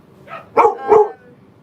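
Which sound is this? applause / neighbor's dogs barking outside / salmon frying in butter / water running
neighbor's dogs barking outside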